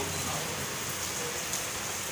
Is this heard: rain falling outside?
yes